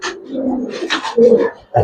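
Old-breed Giribaz pigeons, a pair, giving low throaty coos in short bursts, close and loud, with a bit of other noise mixed in.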